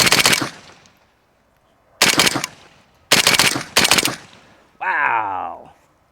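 An AK-pattern M70 rifle fitted with a Delta-tek muzzle device fires outdoors: one sharp crack, a pause, then three quick shots with short echoing tails, loud and close, followed by a brief muffled voice.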